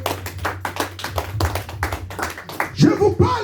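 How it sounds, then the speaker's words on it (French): A church congregation applauding, a steady patter of many hands clapping in quick rhythm, with a voice calling out over the final second. "Est-ce qu'on peut acclamer pour la gloire?"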